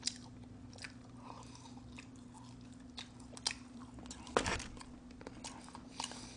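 Fried chicken and pizza are chewed and bitten close up, with quiet, soft crunches and occasional sharper bites over a low background hum.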